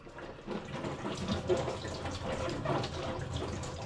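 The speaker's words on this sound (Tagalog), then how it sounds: "Usually ang gamit ko paghugas, running water." Running tap water used to wash food in a kitchen sink, a continuous moderate splashing stream with a faint, even flow throughout.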